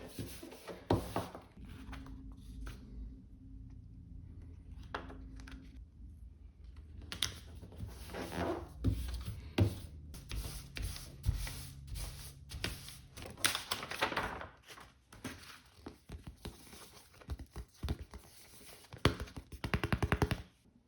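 A sharp blade cutting around the perimeter of a printed sprite sheet glued to chipboard, a dense run of close, quiet clicking and scraping taps with small irregular bursts and no talking.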